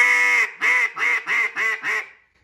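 A duck call blown by a hunter gives a sequence of six loud, nasal quacks, a long opening note followed by five shorter evenly spaced ones, trailing off at the end.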